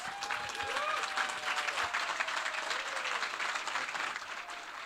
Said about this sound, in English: Give all the panelists a round of applause.